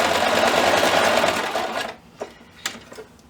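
A sewing machine stitches fabric with a 1/4 inch seam allowance in a steady, fast, close mechanical whir that stops partway through, followed by a few light clicks and handling sounds.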